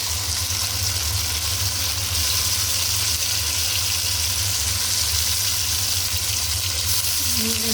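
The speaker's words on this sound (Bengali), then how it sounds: "আস্তে আস্তে নাড়তে থাকবো গোল্ডেন কালার হওয়া আগ পর্যন্ত।" Onions sizzle steadily in a hot pan as they are stirred slowly toward golden brown, a loud, continuous frying hiss with soft scraping, no talk.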